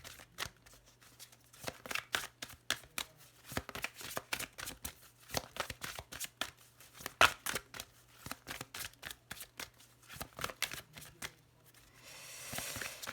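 Tarot cards being shuffled and cut by hand, a long run of quick, close riffling and slapping sounds in irregular bursts, faint and without talk.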